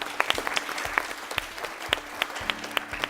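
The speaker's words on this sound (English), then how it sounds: "Let's clap for them." Scattered, uneven clapping from a small quiz-night audience cheering a team at a grand finale, individual hand claps standing out separately rather than merging into a roar, with no talk.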